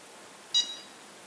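A single short, bright electronic chirp from an HTC One X ringtone, close and clear, ringing briefly before fading into quiet background hiss.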